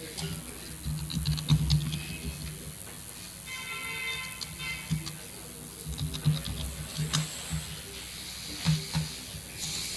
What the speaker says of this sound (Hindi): ये कीबोर्ड की आवाज मुझे सिर्फ सुनाओ, मुझे कीबोर्ड का आवाज मैच नहीं लग रहा जो टीचर लिख रहा है।